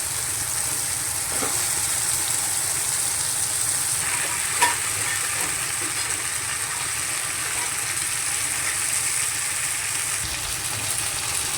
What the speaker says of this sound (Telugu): ఇప్పుడు ఆలు ముక్కలు వేసి ఒకసారి కలుపుకోవాలి.